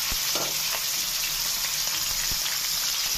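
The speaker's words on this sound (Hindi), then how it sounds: "इसको हम फ्राई करेंगे जब तक ये बिल्कुल सफेद ना हो जाए।" Half a kilo of boneless chicken frying in hot oil in a pan, a steady dense sizzle that fills the whole stretch at close range with no one talking.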